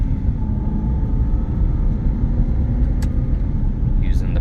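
A 2012 Aston Martin V8 Vantage convertible drives along with a steady, loud low engine and road rumble filling the cabin, with brief higher sounds near the end.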